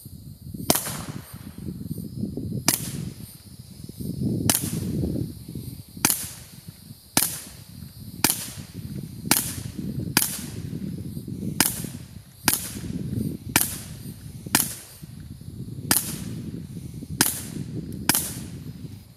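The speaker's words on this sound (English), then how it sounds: "So there's the first 15 rounds I have ever discharged out of a Taurus TX22" Suppressed Taurus TX22 .22 rimfire pistol fired with a silencer, fifteen sharp cracks at a steady, unhurried pace over about twenty seconds, each followed by a short mechanical clack, over a constant low background rumble.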